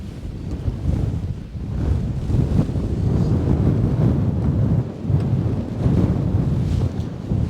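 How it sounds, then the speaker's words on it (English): Steady strong wind roars and buffets the microphone while fishing from a boat on a river, a continuous broadband rush that rises and falls slightly and runs alone without any talk. "Wind's blowing upstream, which doesn't make any sense to me"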